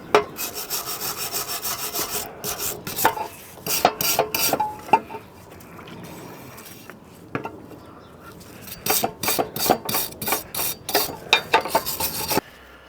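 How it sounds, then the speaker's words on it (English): A general purpose wire brush scrubs oil off a metal turbo boost pipe being prepared for repair, rasping in bursts of rapid strokes with short pauses between, loud and close with no talking. "this is just a general purpose wire brush. It's not one of the welding wire brushes, but you must get the oil off"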